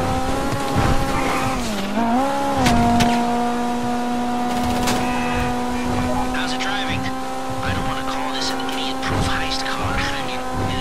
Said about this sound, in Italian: Sì, sicuro il motore è al limite